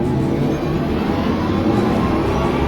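An Audi e-tron GT electric car accelerating, a loud, steady synthetic drone and whir that holds evenly throughout with no pauses.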